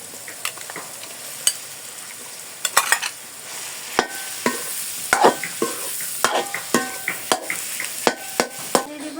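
Mashed potato being stirred into fried vegetables in a pan for tomato chop filling, with a soft sizzle under repeated sharp scraping and clacking of a spatula at an uneven rhythm.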